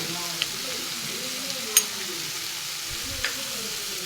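Chopped cooked conch meat sizzles with salt in a pan, a soft steady frying hiss with a few light clicks of stirring, fairly quiet and without talk.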